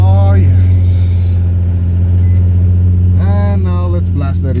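A rebuilt Nissan 350Z engine cranks, then settles into a loud, steady low idle rumble close by, with people talking over it.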